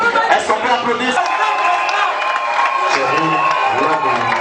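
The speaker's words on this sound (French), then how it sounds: "Est-ce qu'on peut applaudir?" Clapping and cheering from guests at a wedding celebration. A broad wash of applause runs throughout, with crowd hubbub and some music-like tones mixed in.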